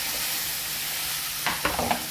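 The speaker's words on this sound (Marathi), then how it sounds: "टमाट्यांना छान असं फोडणीमध्ये परतून घ्यायचं." Tomatoes frying in a hot tempering for a Maharashtrian tomato patal bhaji, a steady sizzle with a few sharp scraping stirs of the spoon against the pan near the end.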